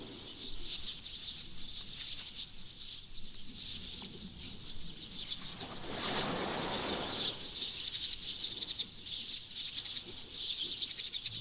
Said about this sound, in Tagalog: Grabe, ang daming ibon.